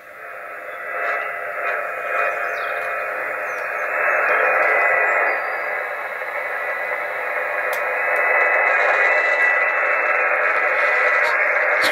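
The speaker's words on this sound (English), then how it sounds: "the static isn't very loud, we need to tune it in" Steady broadband hiss of radio static on the 20 metre amateur band around 14 MHz, picked up on a small loop antenna and receiver, loud and continuous for the whole stretch with faint drifting tones and no voices.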